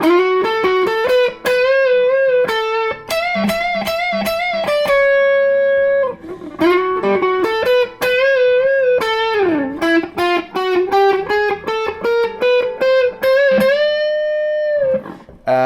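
An electric guitar plays a fast, distorted solo line with quick note runs, slides and a sustained final note, loud and up close.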